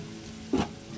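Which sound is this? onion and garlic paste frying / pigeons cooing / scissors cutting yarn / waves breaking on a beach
onion and garlic paste frying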